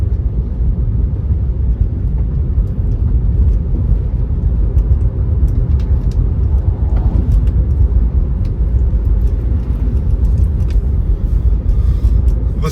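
Tesla running Full Self-Driving 12.4.3 on a nighttime road at around 50 mph, a steady low road and tire rumble with cabin hum continuing evenly throughout, no talking.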